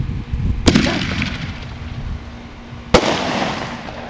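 Fireworks burst overhead at a home display, two sharp loud bangs a couple of seconds apart, each trailing off into crackling rumble and echo over a dim background.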